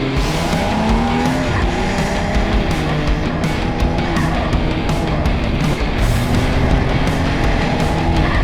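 A Porsche 918 sports car drives hard with a loud continuous engine roar and squealing, skidding tires, revs rising and falling throughout, heard up close.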